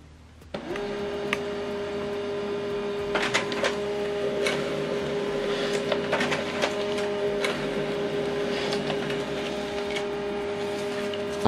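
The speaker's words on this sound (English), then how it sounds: "wait for the printer" An HP LaserJet M140we printer starts up after a soft click, settling into a steady mechanical whir with a sustained hum and scattered clicks and ticks from its moving parts, close and alone.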